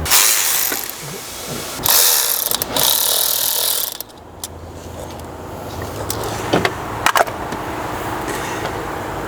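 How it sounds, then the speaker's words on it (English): Electric ratchet driving the clamps on a car's coolant hoses: loud bursts of whirring and clicking through the first four seconds, then a quieter stretch with a few short, sharp mechanical clicks. "If you're gonna use an electric ratchet like I'm doing to put these hoses on here, just make sure you control that trigger"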